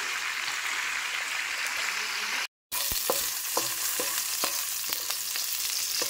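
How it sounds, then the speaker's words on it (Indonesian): Bamboo shoots fry in a pan with a steady close sizzle, broken by a brief cut of silence partway through, then continuing with scattered clicks and scrapes of stirring. "Kita masak rebung, guys."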